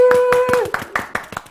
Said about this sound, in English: Round of applause for Rayhana.